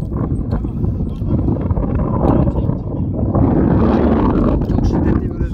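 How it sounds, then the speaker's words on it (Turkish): Strong north wind near Lake Manyas, Balıkesir, Turkey, buffets the microphone in a steady, rumbling roar that swells louder partway through, with no clear voices. "Çok şiddetli bir rüzgar var."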